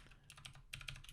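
Keystrokes on a computer keyboard while typing out a coffee shop logo's text, a quick uneven patter of close clicks that runs on its own for about a second.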